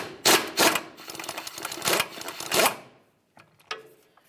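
A socket wrench works the mounting nut off the front lower control arm of a 2005-2010 Dodge Dakota, giving bursts of sharp ratcheting clicks close by, then a brief pause and a few faint metallic taps.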